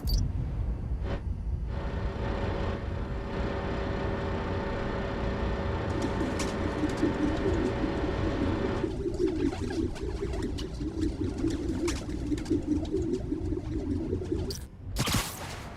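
Pigeons coo softly in a steady outdoor park ambience in a video game, with a constant low hum and distant background noise, with no voices.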